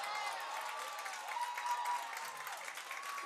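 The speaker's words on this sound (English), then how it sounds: "the crowd is getting riled up here" Crowd at a Panthers football game roaring and cheering with scattered applause, a dense steady wash of many voices at a distance, swelling slightly midway and holding throughout.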